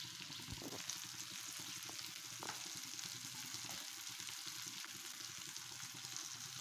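Eggplant frying in a pan, a soft continuous hiss of hot oil with a few faint clicks, quiet and steady with no voices.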